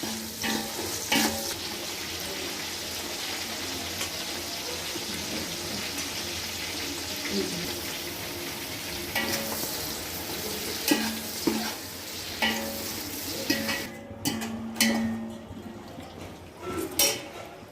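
Tomatoes, green chillies and mint fry in a pan for pulav, a steady close sizzle with repeated spoon stirring and scraping, plus a few sharper clatters toward the end, no voices.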